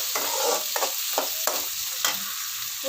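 Capsicum frying in a hot pan, a steady close sizzle with several sharp scraping stirs of a spatula against the pan at irregular intervals.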